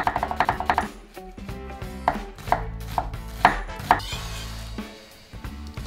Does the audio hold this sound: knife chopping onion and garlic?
yes